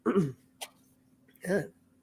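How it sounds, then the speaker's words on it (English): Two short, close throat-clearing sounds separated by a brief pause, with a faint steady hum underneath. "Clear my throat."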